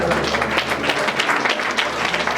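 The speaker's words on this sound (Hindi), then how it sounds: "ताली बजाते हुए प्रभु को धन्यवाद करें" A church congregation at a sermon in Balaghat applauds, many hands clapping in a dense, steady patter that fills the room.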